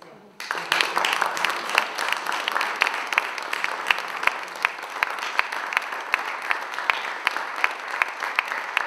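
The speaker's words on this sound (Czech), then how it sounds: "Takže to si opravdu zaslouží obrovský potlesk." Audience applause at a ceremonial gathering for a conference's 20th anniversary, a steady wash of many hands clapping in a hall that swells quickly and continues evenly throughout.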